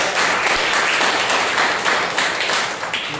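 Congregation applauding during a Sunday morning church service, a steady wash of many hands clapping at moderate loudness for about three seconds, tapering slightly toward the end with no voices.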